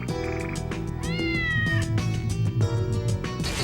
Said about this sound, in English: My cat is looking at the screen very funny when he hears Nigi's cat